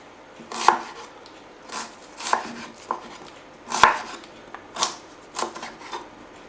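Onion being cut coarsely with a knife on a cutting board, close and clear: crisp chops land at uneven intervals, some sharper than others, with quiet gaps between them.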